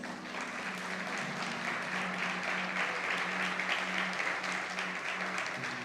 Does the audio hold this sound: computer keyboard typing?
no